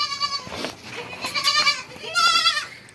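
Several goats bleat repeatedly at close range, loud wavering cries coming in bursts with short gaps between them, and no talking.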